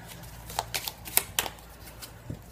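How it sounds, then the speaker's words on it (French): Tarot cards are drawn from a deck one by one in soft, quick papery flicks and slides, several light snaps close by and no talking. "je vais prendre en 5 cartes"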